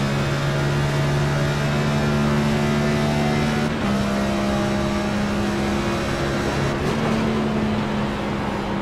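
Race car engine at Pocono, a steady loud drone whose pitch drops sharply twice as the driver downshifts, continuous throughout with no talk.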